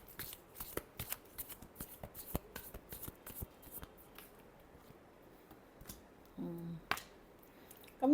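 Tarot cards are shuffled in a steady run of quick, soft riffling flicks, close and fairly quiet, with a brief louder handling noise near the end and no talk.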